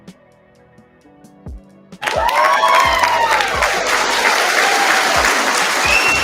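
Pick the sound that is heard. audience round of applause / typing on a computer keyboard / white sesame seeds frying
audience round of applause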